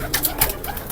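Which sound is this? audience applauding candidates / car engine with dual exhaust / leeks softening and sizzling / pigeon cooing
pigeon cooing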